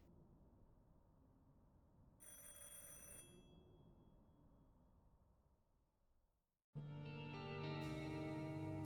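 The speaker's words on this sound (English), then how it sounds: "There's a phone ringing." A telephone bell rings in two bursts over a quiet hiss, the second ring louder and fuller, with no voices.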